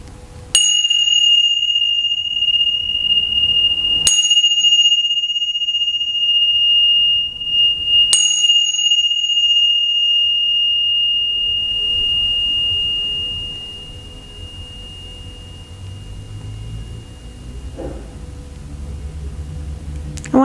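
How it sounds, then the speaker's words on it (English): A yoga bell is struck three times, each clear ringing tone sustaining and slowly fading before the next strike, followed by quieter room noise at the end. "I'm going to ring the bell 3 times, and when you no longer hear the sound, open your eyes."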